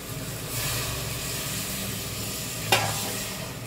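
Meat curry being slow-fried and stirred down to a thick kosha, giving a loud, continuous close-up sizzle with steady stirring and one sharp utensil knock near the end.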